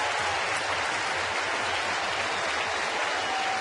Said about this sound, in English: this crowd in Cincinnati will stand and cheer the 22-year-old Californian